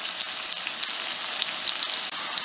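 Coarsely chopped onions fry and begin to brown in a pan for a country-style hamburger, cabbage and vegetable soup, giving a steady, dense sizzle with faint crackles throughout and no talking.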